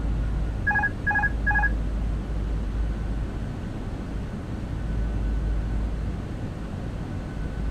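In a Fenix A320 flight simulator cockpit, a short triple-tone autopilot disconnect chime sounds three times in quick succession near the start. A steady low engine and airflow hum continues throughout.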